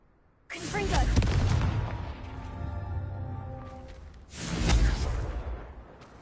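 Two booming magical blasts of the Confringo spell in Hogwarts Legacy, each a loud, close burst with a crackling, roaring tail; the first swells and lingers, a second hits near the end.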